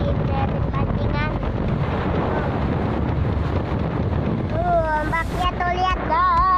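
Big sea waves surge and wind buffets the microphone at a fishing platform off Pulocangkir, a constant loud roar with someone speaking over it near the end.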